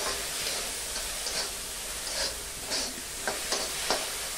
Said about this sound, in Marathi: आणि आता कांदा खरपूस भाजायचा